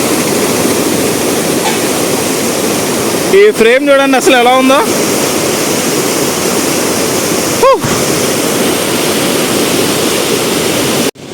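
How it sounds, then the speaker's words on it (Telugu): Water rushes loudly and continuously through the Lolla locks on the Godavari near Rajahmundry, a dense, roaring wash close by, with someone talking briefly over it. "ఓ వాటర్ సౌండ్ అయితే అదిరిపోయింది."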